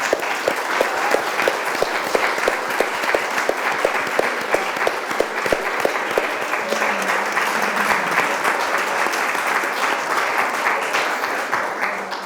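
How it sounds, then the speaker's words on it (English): A museum audience applauds panelists after a panel discussion, sustained dense clapping from a room of people lasting throughout, steady and fairly loud with no voices on top. "So a round of applause for our panelists"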